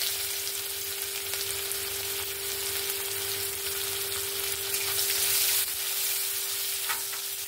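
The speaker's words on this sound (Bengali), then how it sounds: "পেঁয়াজটা এখানে হালকা ভাজা হয়ে গেছে" Chopped onion fries in a pan with an even, continuous sizzle held at a steady level throughout, close and fairly quiet, with a constant faint tone running underneath.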